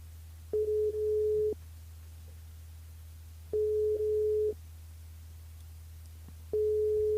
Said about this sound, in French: Mais il compose le numéro de Daisy.